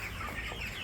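Broiler chickens in a large poultry shed make a faint, continuous murmur of clucking from a crowd of birds, with no single call standing out.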